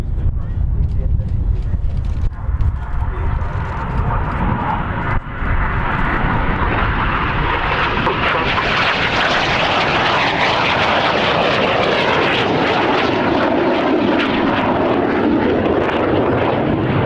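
Red Arrows jet aircraft flying synchro double rolls at an air show, a loud sustained roar that swells and sweeps across the sky, with commentary heard over the engines.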